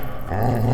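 A dog lets out a low, rumbling growl up close, starting softly and swelling into a steadier, louder snarl over a brief moment, with no voices.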